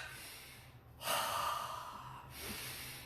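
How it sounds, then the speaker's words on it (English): Deep breathing during a martial arts physical education class: a sharp, full inhale swells up after a quiet pause, then tapers into a long exhale, followed by a softer second breath, close and unaccompanied by talk. "let's take 3 deep breaths"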